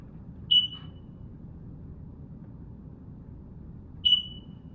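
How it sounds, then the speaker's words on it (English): An alarm in a home chirps twice, each a short shrill beep spaced about three and a half seconds apart, over a quiet room hum. "I'm going to go silence that alarm that just went off."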